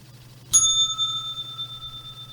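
A single bright bell strike rings out alone, clear and close, its metallic tone sustaining and slowly fading for about two seconds, marking the close of a daily trading broadcast.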